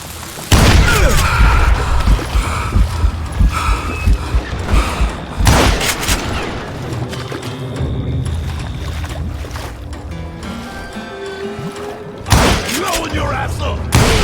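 Explosions and gunfire roar through a Call of Juarez Gunslinger gunfight, loud booms bursting over dense, continuous battle noise while a voice shouts over the action.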